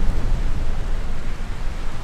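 Steady, dense rainfall from a modded GTA video game with an enhanced graphics preset, a loud, even wash of noise with no talk over it.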